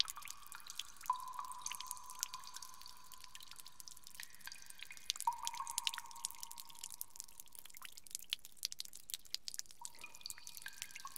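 Water drops fall one after another with bright, ringing plinks, several distinct drips spaced a few seconds apart over a quiet, faint background.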